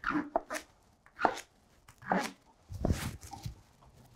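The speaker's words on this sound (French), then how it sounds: "ici on coupe le céleri et on place les légumes dedans" A knife chops celery, onion and leek on a board, giving four separate crisp strikes spaced about a second apart, close and fairly quiet in an otherwise calm kitchen.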